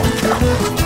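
A playful dog gives low, rough growling grunts in short bursts, close and loud, mixed with busy background noise during an outdoor dog-pack walk.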